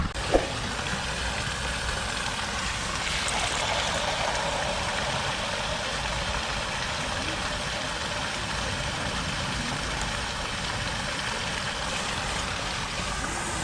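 The small electric motor of a JJRC S9 RC speedboat whines steadily as it runs across shallow water. The tone is continuous and moderately loud, with a faint whoosh of water.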